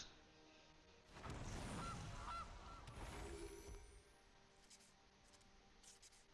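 A goose honks in a video game, a loud burst of calls lasting a few seconds over a steady background, then fading back to quieter game ambience.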